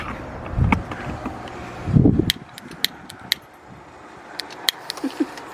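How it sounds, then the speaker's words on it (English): Gusts of wind buffet the microphone in two low, rumbling bursts beside a pellet smoker, followed by sharp clicks and light tapping outdoors. "Yeah, the wind ain't being good to me today."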